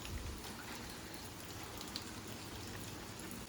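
Steady rain falls in a dense, even hiss of drops on surfaces, continuous and fairly close, with no voices.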